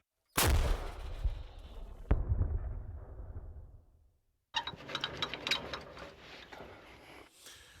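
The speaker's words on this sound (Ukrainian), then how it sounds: "Гармата!" A single heavy boom from an artillery howitzer firing rolls and decays over several seconds, then a burst of rumbling and crackling noise afterward; no voices.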